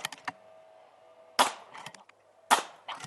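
Macavity Arms MA3 rifle fired offhand, a few sharp, close cracks spaced over about three seconds, each with a short decaying tail and smaller clicks around them, no talking.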